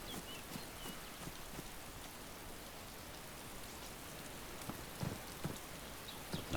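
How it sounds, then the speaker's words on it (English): Steady rain in the DayZ survival game, a continuous soft hiss of falling drops with a few louder taps, no voices. "It's still sodding raining."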